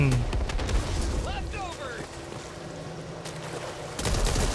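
Rapid bursts of gunfire and booming blasts in the video game Back 4 Blood, with excited voices talking over the shooting.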